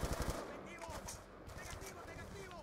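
Burst-fire weapon shots in Black Ops 2 come as quick clustered cracks near the start, then taper into scattered pops and game effects, with a voice talking over parts of it.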